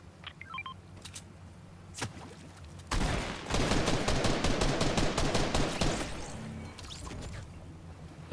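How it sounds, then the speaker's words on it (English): Rapid bursts of automatic gunfire in the Fortnite video game, a dense loud stretch of shots after a few scattered ones, with no talk over it. "there's people shooting at us"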